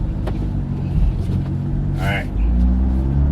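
A car with a carbon fiber roof drives along the interstate, with a steady low road and engine rumble throughout. A person speaks briefly over the noise.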